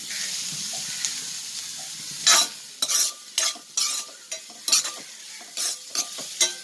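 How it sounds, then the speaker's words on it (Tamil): Onions sautéing in a pan for a country chicken curry: a low background sizzle broken by a run of sharp, rhythmic stirring scrapes from a spatula, close and fairly loud, with no voices. "வெங்காயம் வதக்கிட்டு இருக்கும்போது"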